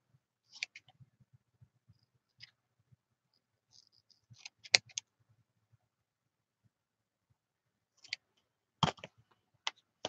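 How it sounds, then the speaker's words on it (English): Sparse, quiet snips and clicks as a paper clothing tag is trimmed with scissors, with a few sharper cuts near the end and long silences between them. "I'm going to go ahead and trim this."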